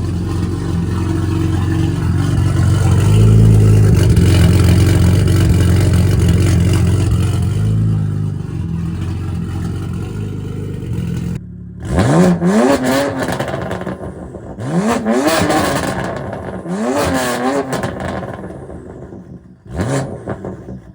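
A BMW F82 M4 with an aftermarket equal-length single-exit exhaust revs hard in several sharp bursts, each rising and falling, after a sustained low droning rumble; loud and close.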